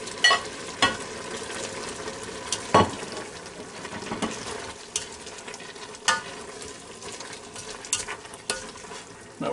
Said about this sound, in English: Now I'm going to dump these sausages back in there